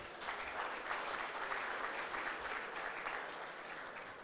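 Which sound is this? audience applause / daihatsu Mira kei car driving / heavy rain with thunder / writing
audience applause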